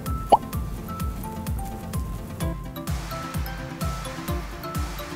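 A towel repeatedly blots club soda on a coffee-stained garment, making rhythmic soft squishing presses about twice a second, close and moderately loud, with a small clink near the start.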